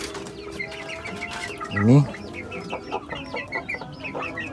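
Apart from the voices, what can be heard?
young roosters clucking in a coop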